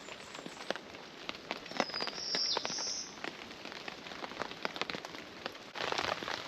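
Steady rain pattering on a surface nearby, with scattered louder drips and a faint high bird call partway through.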